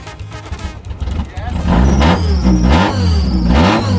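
A modified Mazda Miata's engine revs hard up close, rising through several loud, climbing pulls as the car accelerates.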